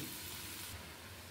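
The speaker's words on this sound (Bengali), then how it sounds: "তো দিয়ে দিলাম করলাটা, এখন একটু নাড়িয়ে চাড়িয়ে দিচ্ছি।" Bitter gourd fries and sizzles in hot oil in a pan while being stirred, a soft, steady crackle heard up close but at low volume for a brief moment.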